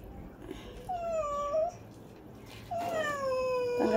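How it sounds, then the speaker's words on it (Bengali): A cat meows twice, each a drawn-out falling cry, moderately close, with a quiet gap between the calls and no speech. "এই বিড়াল,"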